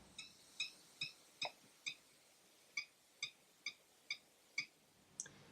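A Dunlop guitar pick makes a clunky clicking noise during playing: a dozen sharp, evenly spaced clicks, close and fairly faint, against a quiet background.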